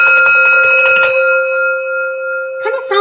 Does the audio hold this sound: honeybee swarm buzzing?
no